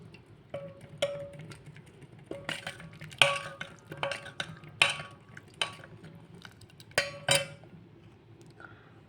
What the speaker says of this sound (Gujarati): પહેલે આપણે બધું જ મિક્સ કરી દઈશું